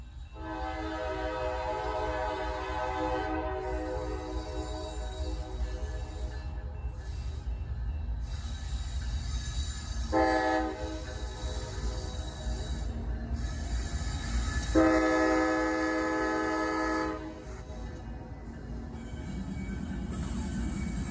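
A coal train rumbles past on a rail line, its horn blaring in several long blasts over the continuous heavy rolling of wagons, loud and close, with no talk.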